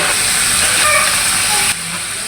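Chicken meat hits hot, well-fried spice paste in a pan and sizzles with a loud, steady hiss that drops off sharply near the end.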